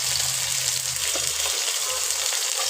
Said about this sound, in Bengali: তারপর একসাথে ভেজে নেব, মশলাটা কষায় নেব।